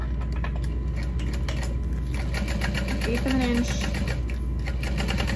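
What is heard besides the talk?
sewing machine top stitching a backpack pocket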